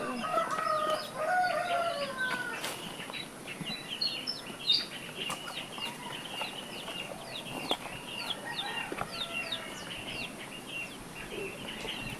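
Chickens cluck and chirp steadily, fairly faint, with scattered short calls over a quiet outdoor background, while being fed coconut worms.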